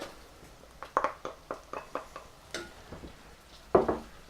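Onions go into rendered bacon fat in a pot for Italian chickpea soup and are stirred, giving a string of quiet scraping and clinking strokes at irregular intervals over a faint sizzle.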